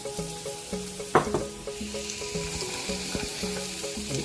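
Butternut squash and mixed vegetables frying in a pan for veggie fried rice, giving a steady close sizzle with a soft clatter of stirring and a sharp knock partway through, with no talk.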